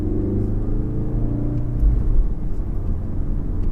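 A warmed-up VW Golf R engine in a car setting off on a drive, a deep, steady rumble that rises and falls slightly in a mild rev, close and continuous with no talk over it.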